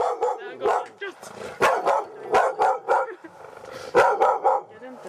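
Dogs bark loudly and close by in a rapid string of sharp, repeated woofs, several clustered bursts with short pauses between them.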